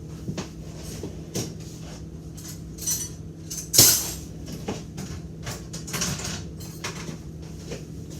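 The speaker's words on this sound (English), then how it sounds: "Alright, let's get another spoon." A spoon is taken from a kitchen drawer while making a parfait, with a few brief metallic clinks and a drawer or cupboard bump, loudest near the middle, over a quiet room hum.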